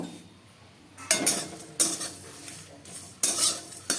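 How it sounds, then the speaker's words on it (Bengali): Dried red chillies and panch phoron are stirred in a wok for a sweet-and-sour chalta pickle, giving quiet scraping and sizzling with several louder clattering stirs of the spatula against the pan, no talking. "পাঁচ ফোড়ন আর শুকনো লঙ্কা আমি ভালো করে নেড়ে চেড়ে ভেজে নেব"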